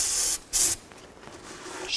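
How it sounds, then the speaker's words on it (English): Two short, sharp bursts of aerosol brake cleaner hiss up close while cleaning a 2000-06 Chevy Tahoe rear differential, followed by quieter handling noise and a faint final spritz. "Now I'm going to use a little brake parts cleaner and just wipe this down."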